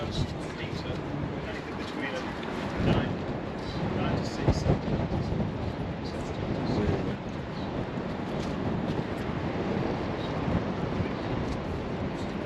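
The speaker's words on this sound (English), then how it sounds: "Well, that's windy here." Strong wind on the roof of Lincoln Cathedral tower buffets the microphone in a continuous rumbling roar, with a voice speaking underneath.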